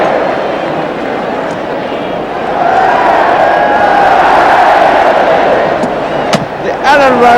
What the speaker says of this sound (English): The Elland Road crowd are lapping it up.